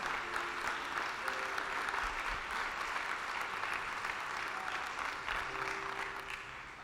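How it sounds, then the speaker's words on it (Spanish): A church congregation claps loudly and continuously in praise of the Lord, a steady roar of applause filling the hall. "Dele fuerte ese aplauso a nuestro Señor."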